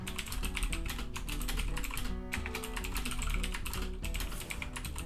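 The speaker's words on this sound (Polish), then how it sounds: "jak ta klawiatura nachrzania jak dzika" Rapid, continuous clattering of keys on a computer keyboard, fast bursts of typing with brief pauses, close and fairly quiet.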